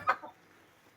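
A hen clucks briefly near a coop where eggs are being laid, two short calls close by followed by quiet.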